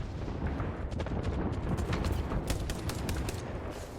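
Gunfire in a French-language online shooter match, with dense overlapping automatic shots and booming impacts that form a steady, loud barrage across the whole clip.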